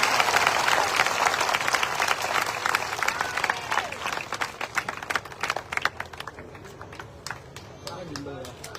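An audience at a Kabir Panth religious sermon gathering in Gujarat claps steadily. Dense applause starts loud and gradually thins and fades over several seconds into scattered claps.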